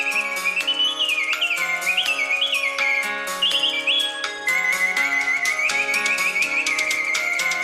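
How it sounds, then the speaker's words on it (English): A mechanical singing bird automaton gives a continuous warbling performance, bright whistled chirps and trills rising and falling over a sustained tonal hum beneath, clear and close with no talking. "Every mechanical singing bird this company produces is a work of artistic and technical craftsmanship that delivers a performance on command."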